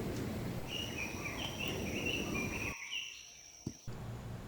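Faint Hawaiian birds whistle and trill in the forest along the Pu'u Pia Trail in Manoa, with thin high calls over a steady wash of wind through the trees before the sound drops away.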